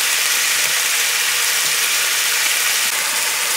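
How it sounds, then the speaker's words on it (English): Beef browning in a hot pan for a Moroccan tajine gives a loud, steady, continuous sizzle with no talking over it. "So this is browning nicely, and you hear the sizzling."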